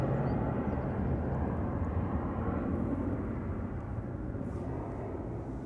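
Aircraft taxiing toward the runway at Amsterdam Schiphol Airport, a low, steady engine rumble heard from a distance that holds even and slowly eases slightly, with no voices.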